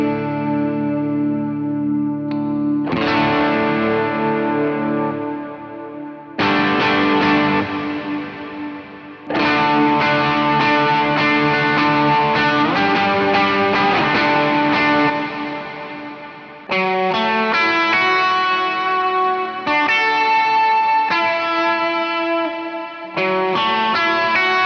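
Electric guitar lead tone run through a reverb pedal with the delay switched off, amp knobs set around noon for a worship setting; sustained melodic phrases ring out loud and alone, each with a reverb tail.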